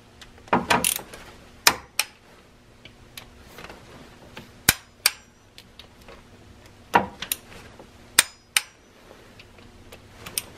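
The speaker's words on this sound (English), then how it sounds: "You set your torque wrench to 180 inch-pounds." Torque wrench tightening bolts on a Caravan 3.0L engine, giving sharp isolated clicks and ratcheting ticks spaced irregularly, close up, with quiet gaps between and no talking.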